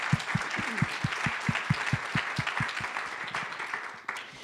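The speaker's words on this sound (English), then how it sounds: "I really would like to give one more round of applause to our speakers." An audience applauds steadily, with a few loud rhythmic claps near the front and the clapping tapering off toward the end.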